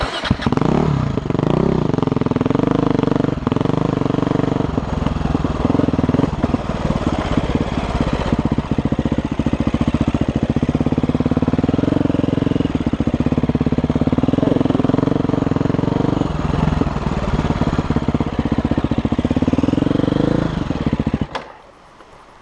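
A motorcycle climbs a trail, its engine droning loud and steady at close range, with throttle swells throughout, then cutting off abruptly at the end.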